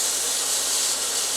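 Steak frying in a hot pan alongside browning potatoes, giving a steady, loud, even hiss of sizzling fat that holds unbroken throughout with no talking.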